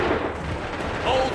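A musket volley fires in the Assassin's Creed 3 video game, making a loud, rumbling burst of massed gunfire with battle noise and shouting around it.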